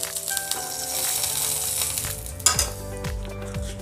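Oil hissing on a hot tawa over a gas flame before a pearl millet pancake batter goes on, a steady close sizzle with a few metallic clinks of a utensil near the end.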